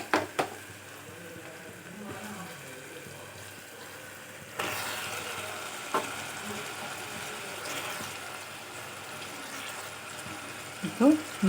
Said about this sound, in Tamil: இப்போது இந்த மட்டனுடைய கலர் கொஞ்சம் மாறுற வரையும் எண்ணெயிலே நல்லா கலந்து விடணும்.